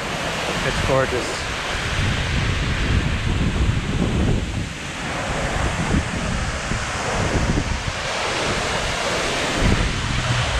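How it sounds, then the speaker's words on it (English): A steady, roaring rush of falling water at Virginia Falls, Glacier National Park, fills the air, broad and continuous, with gusts of wind buffeting the microphone. "And this is Virginia Falls."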